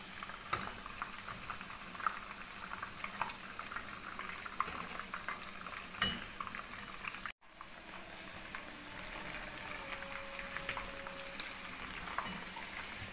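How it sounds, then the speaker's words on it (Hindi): Chicken frying in a pan makes a soft, steady sizzle and bubbling throughout, faint and close, with a brief break partway through. "ये चिकन भी फ्राई हो गया है।"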